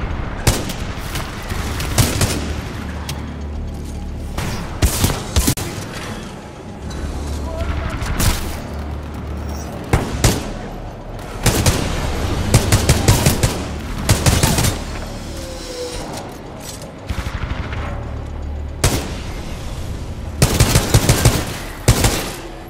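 Titanfall 2 firefight with repeated loud bursts of automatic gunfire and heavy booming shots in clusters, separated by quieter gaps, with voices talking at times.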